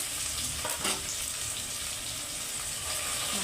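Onions browning in a pan for restaurant-style chicken biryani as ginger paste goes in, a loud steady sizzle with brief bursts of stirring and spattering, continuous and close, without speech.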